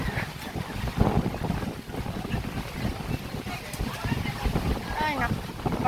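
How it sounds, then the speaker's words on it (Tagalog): Strong wind gusts roar into the microphone at Lions Beach in Quintana Park, a constant blustery rumble close by, with a person talking underneath. "Ay napakalakas ang hangin."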